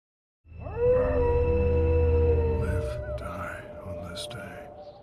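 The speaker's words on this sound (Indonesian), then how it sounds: "mendengar lolongan serigala" A long, rising wolf howl starts abruptly and holds steady for a couple of seconds, then fades into a murmur of other sounds and background noise.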